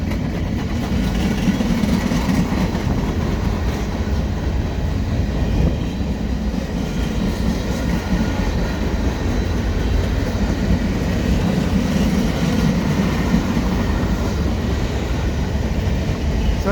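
CN freight train rolling slowly through Dorval, a steady low rumble of engine and rolling cars with faint rattles, held at an even level throughout and heard from nearby.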